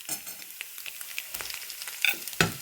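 Torn roti and spiced mixture for kothu roti are tossed and stirred on a hot pan, giving faint sizzling under soft scraping and a few sharper metal clinks near the end.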